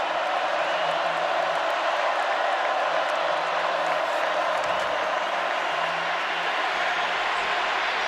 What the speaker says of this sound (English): Crowd is in it.